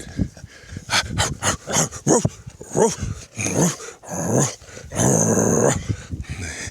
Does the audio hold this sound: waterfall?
no